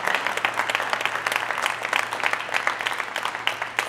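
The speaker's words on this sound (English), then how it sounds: "All right, I think on that note, we will give our panelists a big round of applause." An audience gives a big round of applause for panelists at an investor event, with steady, even clapping from a moderate crowd sustained throughout and a low hum beneath.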